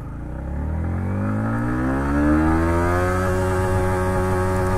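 A Yamaha MT15 motorcycle accelerates hard from 2000 RPM, its engine note rising steadily and loud up close, then settling into a higher sustained drone, with no talk.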